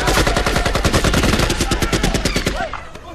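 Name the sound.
gunfire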